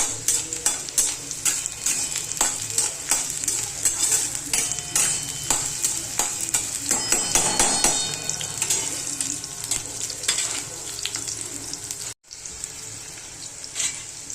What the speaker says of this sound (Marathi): हे ना तेलामध्ये चांगलं परतवून घ्यायचं.